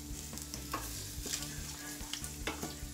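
Tofu browning in a frying pan, a steady background of sizzle with occasional scraping and stirring clicks, close and moderately loud with no voices.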